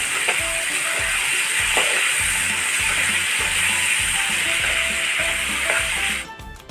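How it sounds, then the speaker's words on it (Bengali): Potato pieces fry in hot oil in a wok with salt and turmeric, giving a loud, steady sizzle with a few stirring clatters, the noise dropping off sharply near the end. "এখানে লবণটা দেওয়ার কারণ হচ্ছে যেন তেলটা না ছিটে আসে দিয়ে দিচ্ছি পরিমাণ মতো হলুদ গুঁড়ো"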